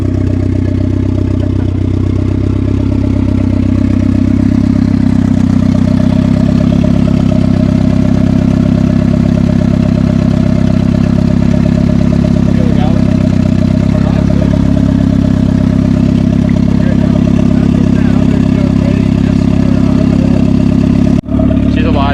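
A turbocharged Mazda Miata drift car runs steadily after being brought back to life, a loud, continuous mid-pitched engine drone holding for about twenty seconds with slight revving, while people talk over it.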